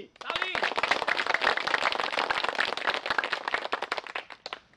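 An audience claps, a dense rapid patter of many hands that runs throughout, with a voice speaking at the start.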